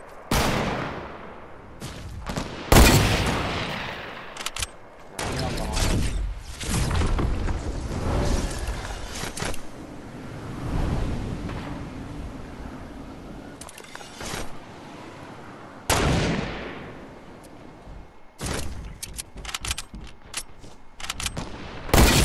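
Rapid bursts of gunfire from a Zombie Magpie rampage in a squad shooter game, loud and dense with repeated volleys, sharp blasts and brief lulls across the whole stretch, with no talk.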